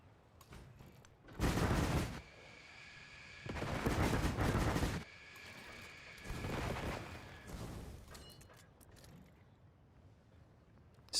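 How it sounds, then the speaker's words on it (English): Artillery fire in the strategy video game Civilization 7: three broad, booming volleys, each lasting about a second, loud and close, separated by quiet gaps with no talking. "He's got some artillery here."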